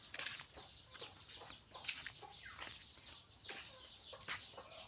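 Chicks chirp and cluck inside a coop in a quiet, faint series of short calls, with a few brighter peeps scattered over a soft background.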